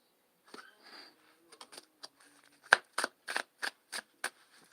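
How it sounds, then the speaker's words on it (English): A deck of playing cards is riffle shuffled up close, soft handling sounds first, then a run of six or so sharp, crisp riffling bursts in quick rhythm, alone without talk. "I'm going to give these a good old ruffle shuffle, so watch your ears"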